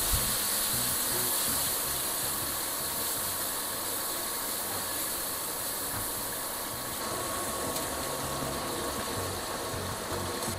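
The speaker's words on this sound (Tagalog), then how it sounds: "Okay, so mauna ko na iprito sang aton nga isda nga marot." Fish frying in a pan, a steady loud sizzle and crackle of hot oil that continues without a break for the whole stretch, with no talking.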